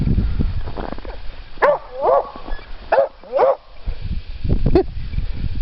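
A dog barks several times in short, separate yips and woofs, close by, with faint background noise between the barks.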